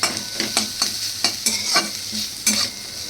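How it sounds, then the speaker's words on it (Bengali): Halved pointed gourd (potol) frying lightly in oil and being turned in a pan, with steady close sizzling broken by repeated scraping stir strokes at a quick, fairly even rhythm, no one talking. "খুব বেশি একটা ভাজবো না, সামান্য একটু এপাশ ওপাশ করে নেব"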